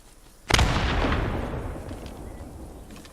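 A single grenade explosion in the World War II game Post Scriptum goes off with a sudden loud boom, then a long rumbling decay fading over a few seconds.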